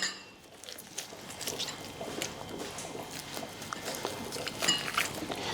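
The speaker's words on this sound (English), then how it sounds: "So I have to remove the skin" Raw chicken breast skin being pulled and cut away on a yellow chopping board in a kitchen, giving soft wet squishing and tearing with light knife and board taps, close and fairly quiet.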